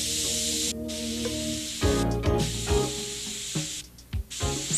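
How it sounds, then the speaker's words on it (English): Red Devil spray enamel hisses from an aerosol can in several bursts, steady and close, alternating with short pauses, under a background of tonal music. "When spraying, always keep your spraying arm moving in a constant and even motion."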